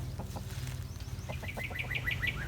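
Chickens on a farm, including a hen with an infected foot, cluck in short repeated calls, with rising chirpy notes toward the end and a brief flutter of wings, all close by over a low steady rumble.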